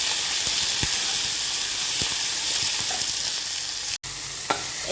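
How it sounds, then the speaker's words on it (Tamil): Onions and fresh coriander leaves sauté in a pan with a steady broadband sizzle and hiss, soft stirring scrapes now and then, and a brief dropout near the end. No voices. "கொஞ்சம் ஃப்ரெஷ்ஷான மல்லித்தலையும் சேர்த்துக்கலாம் சேர்த்துட்டு நல்லா வதக்கிக்கலாம்"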